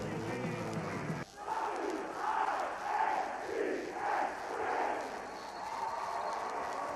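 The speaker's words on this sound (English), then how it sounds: "the whole crowd just saying happy birthday to Big Gabe" A hockey arena crowd chants happy birthday to Big Gabe, the head cheerleader, during a 1994 playoff game between New York and Philadelphia. The crowd is loud and broad, with rising and falling sung phrases after a brief drop at the start.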